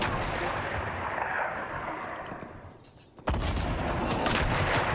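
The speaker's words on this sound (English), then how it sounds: "Oh, they're shooting those things at us." Fortnite arena gunfire crackles and booms in bursts, fading briefly before a sharp loud shot returns with a sustained barrage of in-game shooting.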